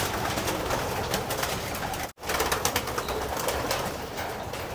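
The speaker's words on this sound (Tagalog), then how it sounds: "Ayun na yung mga kalapati namin." Pigeons coo close by amid a dense flutter of wings as a flock takes off from a loft, with a brief dropout midway.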